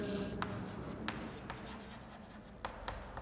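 Pen writing by hand on paper during a class, soft continuous scratching with brief strokes and taps over a steady background hum, close and faint.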